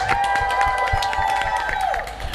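A studio audience on a live talk show claps and cheers for a panel guest, a steady wash of many hands with a held musical tone running underneath, fairly loud and close throughout.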